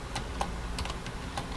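Light typing on a computer keyboard, a few scattered key taps close by over a low steady hum.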